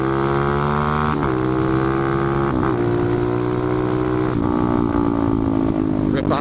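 A motorcycle engine drones steadily while riding, loud and close with dense wind rumble, its pitch dipping and climbing at several gear shifts.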